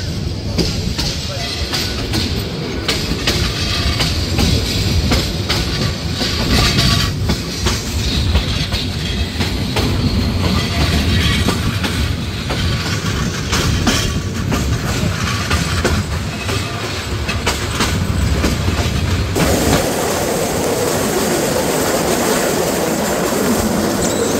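The Paharika Express rumbles along a hilly, winding line from Chittagong to Sylhet, a loud continuous roar of wheels and carriage rattle with rhythmic clickety-clack, heard from inside the train throughout.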